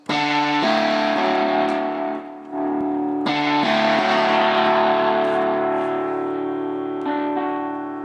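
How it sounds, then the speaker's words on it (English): Heavily distorted electric guitar chords ring out loud and sustained, with a brief dip partway and a fresh strum, saturated and buzzy throughout. "for the guitar guys, from phaser, let's go to distortion"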